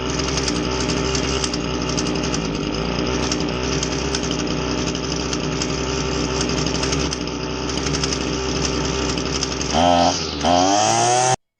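Husqvarna 525LS two-stroke engine running at a steady buzzing high idle after a carburetor low-speed adjustment, then near the end abruptly revving up, its pitch climbing sharply before cutting off.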